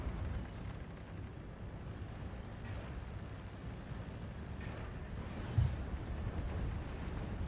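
A Nebelwerfer rocket artillery barrage in the Steel Division 44 game makes a dense, continuous low rumble of distant blasts with no clear separate impacts, with one sharper thump partway through.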